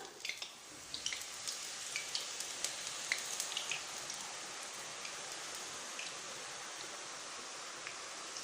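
Omam podi dough, pressed straight into hot oil for a Diwali snack, fries with a steady crackling sizzle and scattered sharp pops, fairly quiet and gradually settling.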